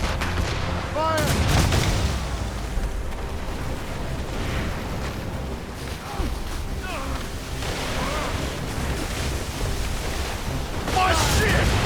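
Heavy cannon fire rumbles through a naval battle in the Assassin's Creed Rogue game, booming blasts over a constant roar of sea and wind, with shouted voices mixed into the chaos.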